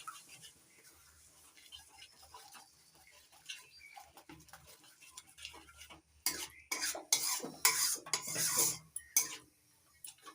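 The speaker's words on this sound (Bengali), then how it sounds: "নাড়াচাড়া করে ভালো করে মিশিয়ে নেব।" A spoon scrapes and clatters through a spiced masala in a pan as beaten sour yogurt is stirred in for a vegetarian jackfruit dish, quiet at first and then louder with rapid bursts of scraping toward the end.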